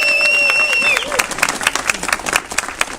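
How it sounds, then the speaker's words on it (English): An audience claps for a speaker at a live-streamed oversight meeting, with scattered, uneven claps of moderate loudness after a brief tonal sound at the start. "round of applause for Chris."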